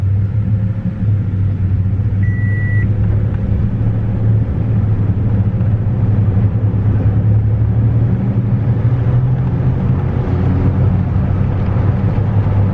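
Inside a work truck with a vibration problem, a heavy, steady low road rumble fills the cabin as it drives along, constant and loud with no talking.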